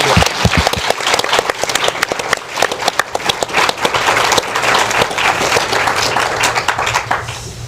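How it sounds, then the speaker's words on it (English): A conference audience gives loud, sustained applause after a panel on the changing landscape of derivatives, with dense, close clapping that continues without a break and fades slightly near the end. "Could you join me, please, in giving Ed, Deepak, and Nick a huge round of applause"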